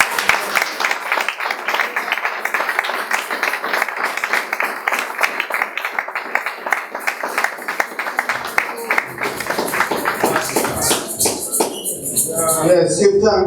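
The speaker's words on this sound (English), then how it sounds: "Let's give Professor Rupert Lewis another round of applause" An audience at a book launch for a Leonard Howell book applauds Professor Rupert Lewis, with steady, dense clapping running throughout and rising slightly louder near the end.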